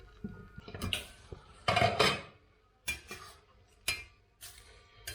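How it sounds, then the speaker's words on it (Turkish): A utensil scrapes and clinks against a pot while béchamel sauce is stirred into cooked pasta, giving a few separate close knocks and scrapes with quiet gaps and no talk. "Karıştırmaya devam ediyorum."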